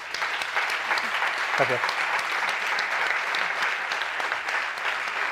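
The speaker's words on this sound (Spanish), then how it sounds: "Bueno, pues te vamos a dar otro aplauso." Audience at a public talk about Mars and the search for life applauds steadily throughout, with someone speaking briefly over the clapping.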